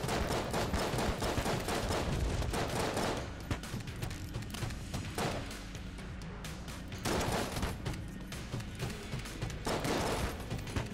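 Dense, continuous gunfire from a weapon in Enter the Gungeon, a rapid fusillade of shots that keeps up steadily and loudly for the whole stretch, with brief dips and no talking.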